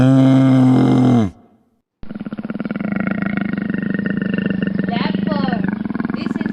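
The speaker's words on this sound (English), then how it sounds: "Leopard. This is a wild animal." A leopard roars in a long, steady run of rough, pulsing grunts that stays loud and close, following a brief voice and a short silence.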